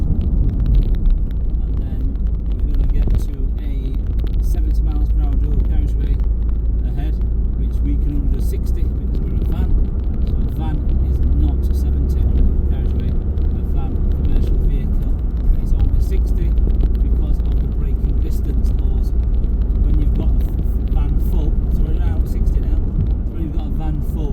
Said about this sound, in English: 5th gear going up the hill now